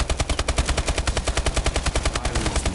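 Automatic turrets in Call of Duty Zombies fire a steady, rapid stream of loud gunshots, evenly paced bursts hammering without pause and no speech over them.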